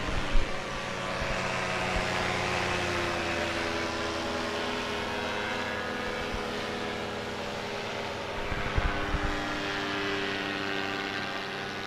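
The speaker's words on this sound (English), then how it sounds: "if you look up high, we've got a couple of pilots climbing for an acro run." Light aircraft engines droning high overhead as pilots climb for an aerobatic run at a barefoot water-ski championship, a steady, fairly faint outdoor hum with harmonic whine, lasting throughout with no talk.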